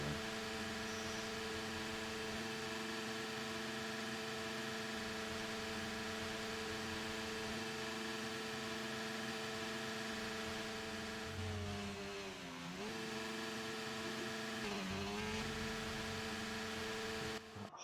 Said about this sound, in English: Honda engine being revved doesn't sound very nice